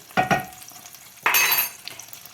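Chopped ginger in melted butter in a pan for pumpkin soup gives two quick stirring scrapes, then a louder burst of sizzling that fades, close and without voices.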